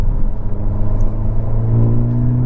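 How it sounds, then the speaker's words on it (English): 2022 Hyundai Elantra N exhaust in Sport Plus mode, a loud, throaty low rumble that builds slightly as the engine pulls, heard close and alone. "I'm gonna leave it in the loud exhaust sound from now on"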